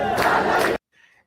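Large crowd of protesters in Iran chanting a 'Pahlavi will return' slogan in unison, a loud massed roar of voices that cuts off abruptly and leaves brief faint noise.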